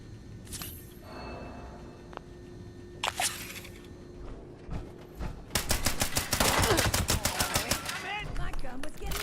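Gunfire in the video game Fallout 76: a few scattered shots at first, then a loud, rapid automatic burst that keeps going to the end, with short breaks between volleys.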